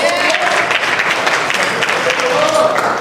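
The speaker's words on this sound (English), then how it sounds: "Everybody have a seat and clap for yourselves." Steady applause from a crowd fills the whole stretch, dense and even, with faint voices mixed under the clapping.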